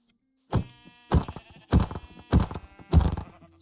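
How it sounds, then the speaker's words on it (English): Sheep in the Minecraft video game give five evenly spaced, loud bleats, each a short, wavering nasal cry, with no other sound between them. "Let's first take care of the sheep"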